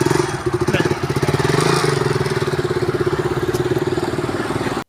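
An off-road stunt motorcycle engine idles close by with a rapid, steady chugging pulse that holds throughout, loud and alone before cutting off at the end.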